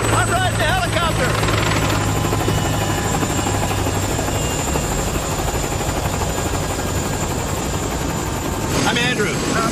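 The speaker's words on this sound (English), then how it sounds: "I'm riding the helicopter." A helicopter flies over São Paulo, heard from on board as a loud, continuous rotor and engine drone that fills the whole stretch, with a steady hum throughout and no clear talk.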